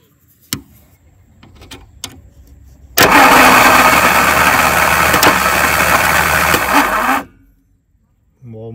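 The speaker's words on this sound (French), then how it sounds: "on met en contact ça et ça, et vous allez voir, ça fait tourner le moteur" A car engine is turned over by a starter wired straight to the battery, giving a loud, steady cranking whir that lasts about four seconds and then stops abruptly. A few clicks and handling noises come before it.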